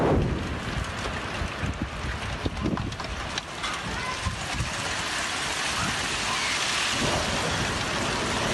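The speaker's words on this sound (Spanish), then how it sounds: "La borrasca o tormenta Hortensia azota varias regiones de España." Heavy rain pours down during storm Hortensia in Spain, a dense, loud roar of water on surfaces with low rumbling thunder beneath and gusting wind, continuous throughout with no voices.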